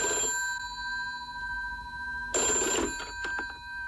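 A telephone at a radio station rings as listener phone lines open, a steady electronic bell tone with a short burst of ringing at the start and a louder clattering ring burst later.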